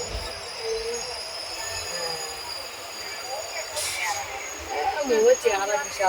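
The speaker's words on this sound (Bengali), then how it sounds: "ট্রেন ছেড়ে দিয়েছে" A passenger train rolling along after leaving the station, heard from inside the carriage as a steady low rumble with faint wheel squeal, while people talk over it near the end.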